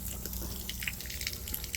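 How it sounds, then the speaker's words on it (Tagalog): Water from a roof leak, during mixed rain and snow, drips in quick, irregular splashes close by over a dense, steady wash of background noise. "Nakikita nyo, ang lakas ng tulo."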